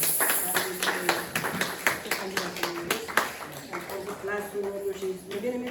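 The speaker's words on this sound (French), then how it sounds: "Nous acclamons pour la parole de Dieu." A church congregation claps and applauds together in a sustained burst of uneven, overlapping hand claps, fairly close and lively, with voices mixed in throughout.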